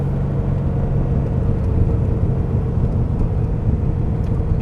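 A Corvette C6 Z06 on coilovers accelerates under power out of a corner, a steady loud engine rumble and road roar heard from inside the car, with no talk.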